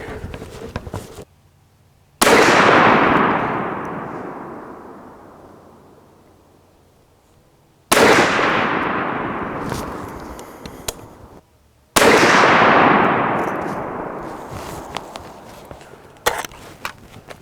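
.50 caliber rifle firing 350 grain jacketed hollow point rounds at a 100-yard range: three very loud, separate booms, each with a long rolling echo that fades before the next shot.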